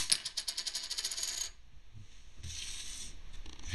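A Pokémon Charizard collector coin is flipped and dropped, giving a bright metallic ringing clatter that settles, followed by a quieter scrape and a second shimmer of metal.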